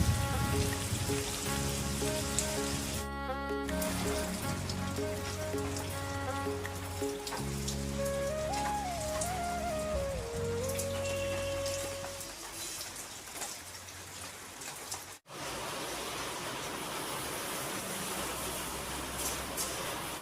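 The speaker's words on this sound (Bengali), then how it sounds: "বৃষ্টি হচ্ছে বাইরে।" Steady hiss of falling rain, with music playing over it for the first part before the rain carries on alone.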